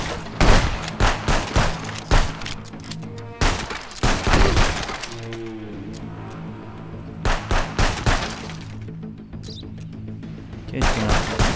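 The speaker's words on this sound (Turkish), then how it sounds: "At şuna bir mermi." Rapid bursts of gunshots in Contraband Police, a first-person border-control game, come in loud clusters separated by pauses, with a Turkish-speaking player talking and tonal game sounds between volleys.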